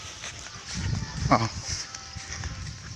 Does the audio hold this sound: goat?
yes